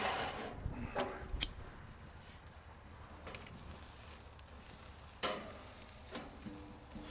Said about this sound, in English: Nice looking sear happening there.